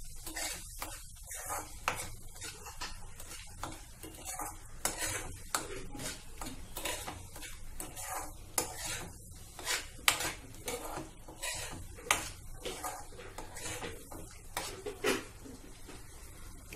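Chole masala is stirred in a pan, producing a quick, irregular series of close metallic scrapes and clinks of a spoon against the cookware, soft overall and with no talk.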